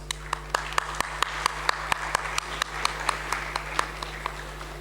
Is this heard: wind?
no